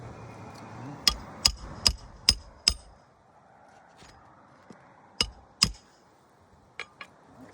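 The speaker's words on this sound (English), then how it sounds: "We're hammering" Hammer blows during a repair on a back roof slope: a quick run of five sharp strikes, then a pause and two more, with fainter taps toward the end.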